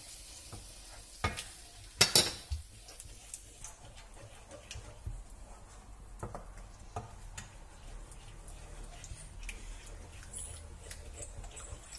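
Bread halwa in milk is stirred in a pan over a low flame, with spoon clinks and scraping against the metal over a soft bubbling sizzle, close and unhurried, with no one talking.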